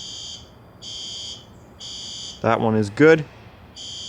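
A fire alarm system sounds during its monthly test, giving evenly spaced, repeating electronic beeps at moderate loudness. Someone speaks briefly between the tones.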